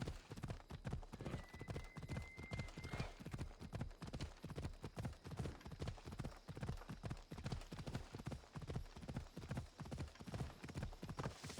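Horse galloping at full speed across open wilderness in the video game Assassin's Creed Odyssey, a steady rapid clip-clop of hooves with a brief whinny, loud and close throughout.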